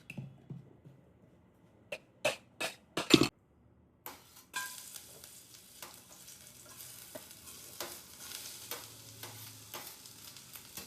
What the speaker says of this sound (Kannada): ಈರುಳ್ಳಿ ಹಾಕು ಪಾನಿಗೆ.